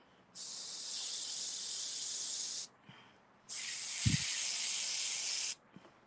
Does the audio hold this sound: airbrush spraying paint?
yes